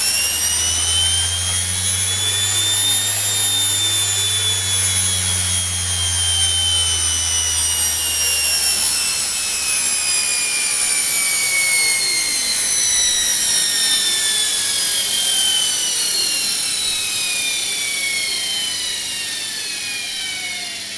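A washing machine motor, speed-controlled by a VisionFive 2 single-board computer, whines loudly and continuously with high tonal harmonics that slowly drift in pitch, like a turbine, with no voices.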